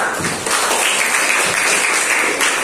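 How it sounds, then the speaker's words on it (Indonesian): A classroom of students applauds a student group during a teaching practice session, a dense, steady burst of clapping heard close up, with no talking, for nearly three seconds. "Tepuk tangan untuk kelompok 1 ya."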